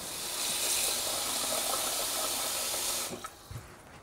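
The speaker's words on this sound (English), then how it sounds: "And then all we do is top up with water." Water pouring steadily into a pot of lamb for a Jordanian mansaf, a close, continuous hissing splash that stops abruptly near the end, followed by a few faint clinks.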